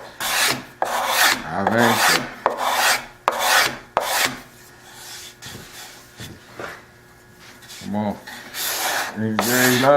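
An old needle blade scrapes a wooden chair-stepladder surface in long rasping strokes, several bursts in steady rhythm, close and loud, with someone speaking French in short phrases between strokes.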